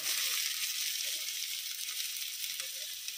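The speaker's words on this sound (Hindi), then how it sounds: "अदरक को भी भूनेंगे थोड़ा सा।" Ginger sizzling in hot oil in a pan after browned garlic, a steady dense frying hiss that stays close and even throughout with no voices.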